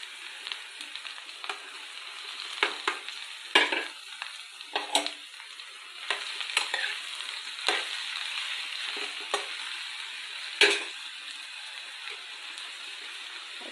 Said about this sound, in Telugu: ఈ విధంగా ఈ పీసెస్ని ఈ పోపు మసాలా ఫ్రైలో యాడ్ చేసేద్దామండి